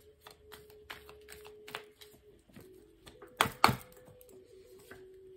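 Tarot cards shuffled by hand in a few quick riffling bursts with soft taps between them, close and fairly quiet over a steady low hum.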